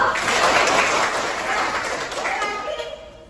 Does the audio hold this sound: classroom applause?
yes